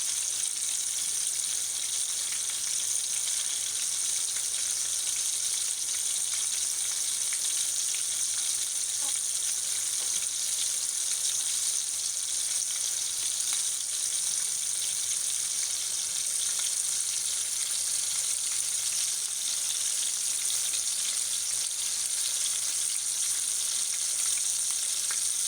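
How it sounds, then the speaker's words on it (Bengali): Surma fish frying in hot oil, a steady dense sizzle holding at an even level for the whole stretch, close by with no talking. "মাছ ভাজা শুরু করলাম।"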